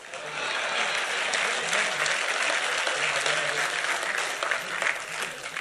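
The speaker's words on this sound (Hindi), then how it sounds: "लेकिन अब आपकी तालियां उठनी चाहिए।" Mushaira audience in Vadodara breaking into applause, a sustained loud round of crowd clapping that swells quickly and stays dense throughout, with faint voices mixed in.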